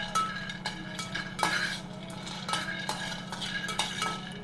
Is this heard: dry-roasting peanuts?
yes